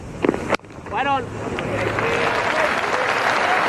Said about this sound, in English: Listen to this crowd, Smithy, clapping every ball.